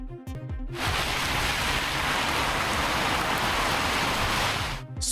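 Heavy rain pours in northeastern Spain as a dense, steady broadband hiss that holds for several seconds, cut in sharply after a brief burst of other sound and ending abruptly.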